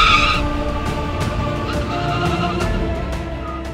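A manual Honda Civic Si accelerating hard in a drag race test with electronic aids off and sport mode on, giving a loud continuous engine roar with a gear change in the opening moments and repeated sharp upper transients.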